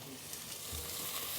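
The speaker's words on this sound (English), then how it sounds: "we're just going to add our onions to that and allow it to caramelise just for about 8 to 10 minutes" Onions fry in olive oil in a saucepan with a soft, even sizzle, a faint crackling hiss that stays fairly quiet and unbroken.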